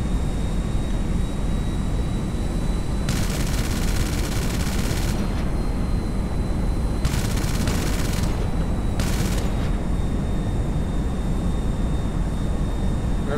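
Video game gunfire, likely Counter-Strike: Global Offensive or GTA 5, with several bursts of rapid shots over a constant loud game background hum and drone.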